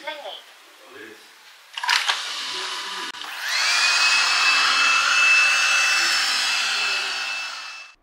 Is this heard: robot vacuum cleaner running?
yes